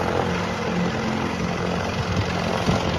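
A Piper Cherokee light single-engine airplane with Hershey bar wings drones steadily through the whole stretch, a continuous broadband engine and propeller roar heard from moderately close with no talk over it.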